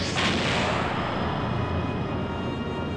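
A big artillery shell landing on an island in Skies of Arcadia, heard as one heavy booming blast at the start that rolls into a long, dense rumbling decay.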